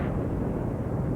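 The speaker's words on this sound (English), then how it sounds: "An explosion from stored propane gas sends a plume of smoke 200 feet in the air." Stored propane gas explodes, giving a dense, sustained low rumbling roar that fills the whole moment without any distinct sharp onset, with no speech over it.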